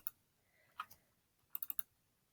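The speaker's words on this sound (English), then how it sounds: "I'm going to try to type it so that it's easier for you to read." Typing on a computer keyboard, a faint lone tap followed by a quick burst of four or five clicks, quiet and close with no talking over it.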